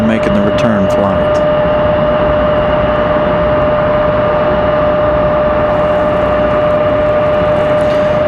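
An Embraer E190 jet at Raleigh-Durham airport gives a loud, steady engine drone with a persistent whining tone, near and constant, with brief clicks and chirps early on and no talk.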